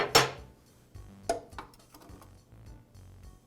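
A DeWALT planer knife bar and knife are lifted off with a magnetized wrench, giving a sharp metallic clink followed by a few quieter taps and rattles, close and alone.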